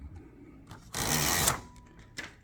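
Typing on a 1926 LC Smith & Bros. No. 8 typewriter with a very wide 26-inch carriage, a dense half-second burst of rapid mechanical clatter standing out from quieter scattered key strikes, recorded up close.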